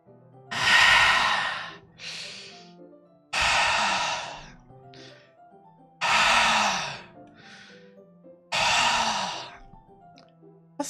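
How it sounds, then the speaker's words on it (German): Deep, hissing breaths drawn in through clenched teeth in the video game Doki Doki Literature Club Plus, four loud inhalations at a slow, even rhythm with softer exhales between, close and alone. "Es hört sich wie Atmen an. Jemand atmet tief ein, als würde er Luft durch die Zähne ziehen."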